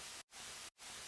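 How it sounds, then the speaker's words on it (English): Broadband white noise layer in an electronic music track, sidechained so it ducks to silence twice in rhythmic pumping dips before swelling back, steady and bright. "I also added kind of like this sidechained white noise to give more highs"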